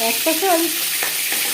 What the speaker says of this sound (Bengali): ভাজা হয়ে গেলে অপর সাইডটা উল্টে দেবো